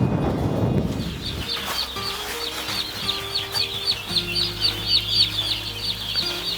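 A large flock of organic turkeys on a family farm of about 24,000 birds, heard as a continuous chorus of clucking and chattering calls with a steady pulsing rhythm, mid-distance, against wind and low background hum.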